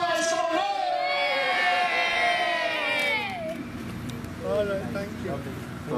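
At the outdoor inauguration of a football school, a crowd of people cheers and shouts with rising whoops and voices, loud at first, then easing into scattered calls and chatter.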